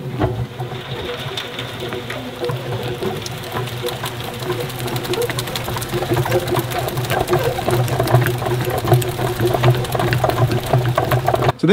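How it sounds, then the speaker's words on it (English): Maxit honey extractor spinning frames of honeycomb gives a steady mechanical whir and hum with rattling, growing a little louder over the span, heard alone at moderate level. "So this Maxit extractor, it's a really, really nice extractor."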